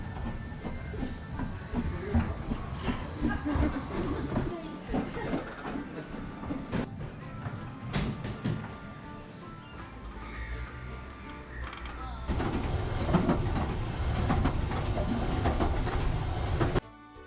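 Engine No. 7 Tom Rolt hauls a Talyllyn Railway train, and from inside the carriage comes a steady rumble with rhythmic clicking over the rails and hissing, growing louder and rougher toward the end.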